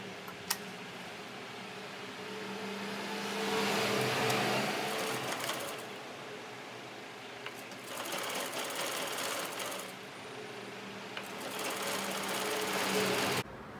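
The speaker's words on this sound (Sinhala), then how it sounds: "පොඩි හීනි වාටියක් තමයි මහ ගන්නවා" A sewing machine runs in bursts while stitching a thin narrow hem on a blouse, with a steady fast mechanical whir that rises, pauses briefly around the middle, then resumes in two longer runs.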